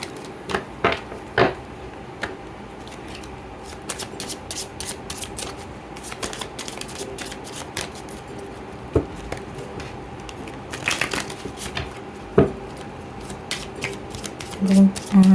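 Medicine oracle cards being shuffled by hand, sharp riffling snaps and flicks recurring in uneven bursts close by, with a voice speaking intermittently alongside.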